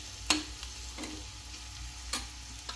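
A spoon scrapes and stirs a pan mixture with red chili powder while it fries in a faint sizzle, with three distinct close scraping strokes over quiet background hiss.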